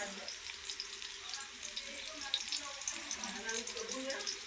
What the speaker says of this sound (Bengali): আমরা একটু নাড়াচাড়া করব